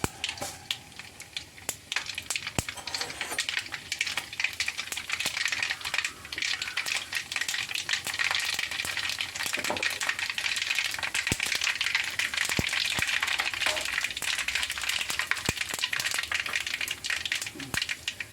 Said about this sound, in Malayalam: അപ്പം നമുക്ക് കടുക് ഇടാം. നമുക്ക് 2 മണി ഉലുവിട്ട് കൊടുക്കാം.